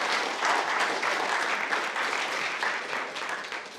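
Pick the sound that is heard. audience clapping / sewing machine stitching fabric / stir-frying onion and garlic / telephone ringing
audience clapping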